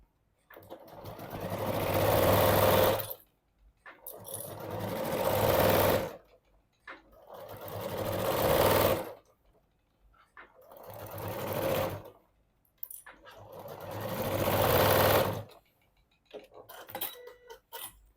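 Sewing machine top-stitching a quilted fabric boxed pouch, running in five steady bursts of a few seconds each with short pauses between, close and fairly loud.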